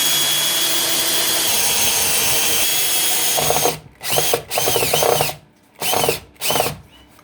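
Power drill driving screws into joined pieces of wood in a backyard bunker build: a steady loud whine at first, then several short separate bursts with pauses between them, close up, no talk.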